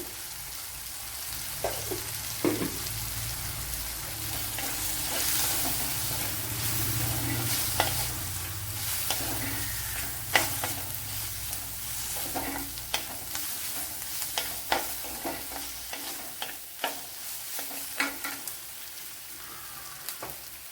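Chili powder and turmeric fry in a pan for a Kerala gooseberry curry, a steady soft sizzle under intermittent spoon scrapes and taps, close and fairly quiet, with no talking.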